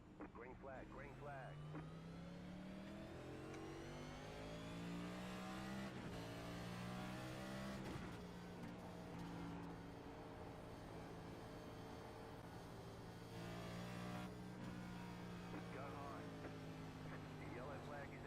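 Simulated race car engines in the iRacing game at Bristol accelerate at the green flag, a faint, continuous droning whine that rises and falls in pitch and holds steady throughout.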